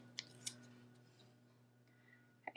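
Scissors cut paper for a planner with a few quiet, crisp snips spaced apart, close by, over a low steady background hum.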